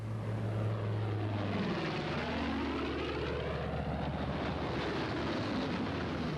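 Propeller-driven fighter planes roar past low overhead and climb away, a loud continuous engine drone whose pitch sweeps downward as they pass, with a steady engine hum beneath and no talk.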